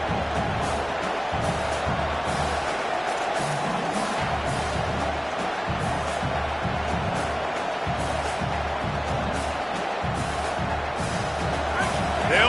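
Football stadium crowd at a UCF versus Texas game, a steady loud roar of cheering and babble from thousands of fans filling the scene throughout.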